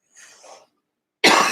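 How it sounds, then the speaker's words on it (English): One loud, sharp cough bursts out close by, preceded by a faint, breathy sound and a short silence. "I started today feeling like this weird cough"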